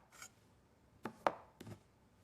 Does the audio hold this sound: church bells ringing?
no